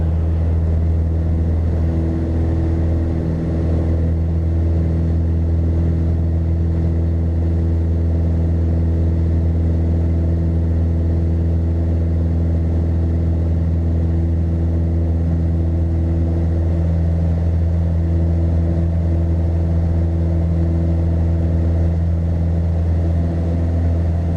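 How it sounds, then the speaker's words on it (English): A small aircraft engine drones at full takeoff power, a loud, steady, close-up propeller hum with strong low harmonics holding constant for the whole stretch, no voices on top. "Full power set, engine in the green, airspeed alive."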